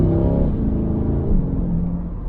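A 2022 C8 Corvette engine pulls steadily in tour mode, a deep, smooth rumbling tone rising slightly as it accelerates, heard close from inside the car with no talking.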